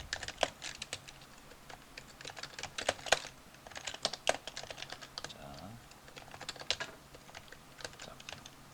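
Someone types code on a computer keyboard in quick, uneven clusters of sharp clicks, steady and fairly quiet, with no voices.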